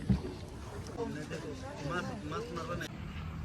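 Boat ride across a lotus lake at Urpad Beel in Goalpara, Assam, with a low rumbling hull and water wash plus breezy wind noise, while people talk steadily over it.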